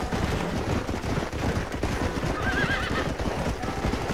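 A horse whinnies in Red Dead Redemption amid snowy terrain, a short wavering neigh midway over steady clip-clop hoofbeats and rough background noise, no talking.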